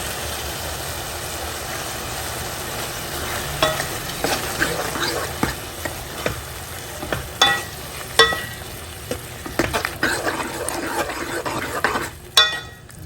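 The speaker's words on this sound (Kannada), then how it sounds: "ಚೆನ್ನಾಗಿ ಕುದಿ ಬರ್ತಾ ಇದೆ" Okra masala gravy with added curd bubbling in a pot, a steady close simmering hiss broken by scattered pops and bursts of bubbling, with no talk.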